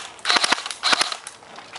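A G&G Combat Machine M4 blowback airsoft gun fires BBs in sharp, snappy cracks, grouped in quick clusters of several shots each, close and fairly loud.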